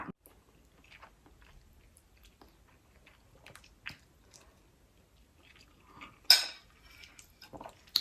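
Soft, wet chewing and slurping of noodles close to the mic, faint and intermittent, with an occasional sharp clink of utensils against a bowl.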